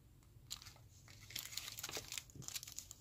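Thin nail art foil sheets crinkle and rustle up close as they are handled, in irregular crisp bursts that grow busier toward the middle.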